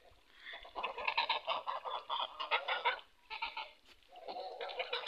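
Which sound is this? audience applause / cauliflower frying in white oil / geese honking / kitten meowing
geese honking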